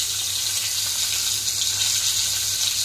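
Hilsa fish frying in oil in a pan, a continuous close, loud hiss with no breaks or talk.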